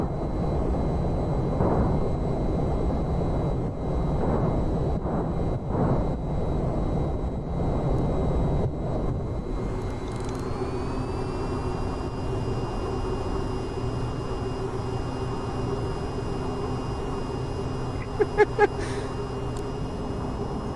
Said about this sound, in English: I'm just flooring it and taking off.